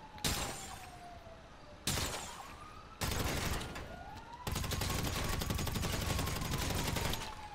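Bursts of rapid gunfire in Grand Theft Auto V Online, first two short volleys and then a long sustained stream of shots, loud and close, with a rising whine under the firing.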